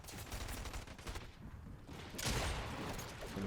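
Gunfire in a battle royale video game: bursts of rapid shots at close range, briefly pausing before a louder volley resumes, with no talk over it.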